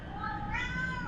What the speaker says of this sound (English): sorry if you hear that meowling in the background.